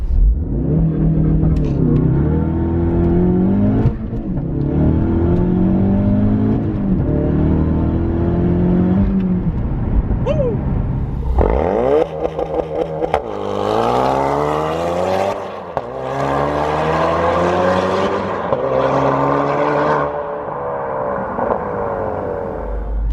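A Mk3 Ford Focus RS with a Mountune V3 cat-back exhaust growls at idle, then roars loudly as it accelerates hard through several gears, each rising pitch cut by a quick shift.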